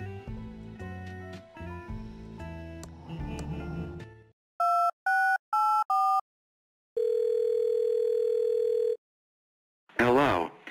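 A telephone in the Thimbleweed Park game is dialed: a run of irregular tones, then four short beeps, a steady two-second tone, and a warbling ring burst, all loud and close, with a voice speaking at the start.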